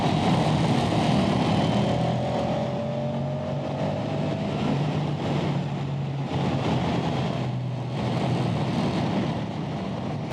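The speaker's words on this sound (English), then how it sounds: "you can just hear the echo, the roar of this V-twin engine" A Moto Guzzi V-twin motorcycle engine roars through a road tunnel in Italy, a loud sustained drone with echoing tone that shifts in pitch as the bike accelerates, close and unbroken for about ten seconds.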